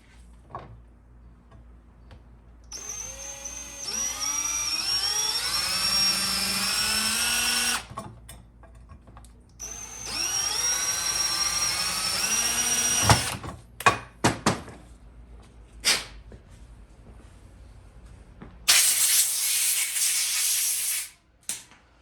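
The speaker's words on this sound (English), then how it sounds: "And then we'll drill it in." A power drill drills into metal on a Ford 4R100 transmission valve body, whining in two long bursts, its pitch rising and falling as the bit bites, followed by scattered clanks and a brief harsh burst at the end.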